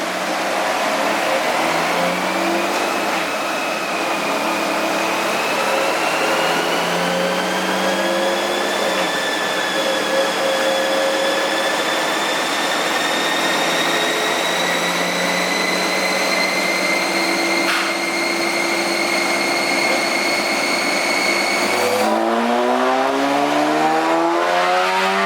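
A supercharged Lotus Evora engine on a dyno winds up in a long, loud, steady pull, its pitch climbing gradually with a whining supercharger on top, then dropping sharply near the end as another rev begins.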